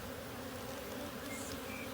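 A low, continuous buzz of honeybees at an open beehive, steady and fairly faint, with no other sounds.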